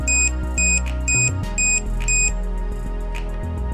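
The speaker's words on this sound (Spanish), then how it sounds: "y se activa la alarma" PIR motion sensor module alarm sounding five evenly spaced high electronic beeps over about two seconds, loud and close, with a low steady hum underneath.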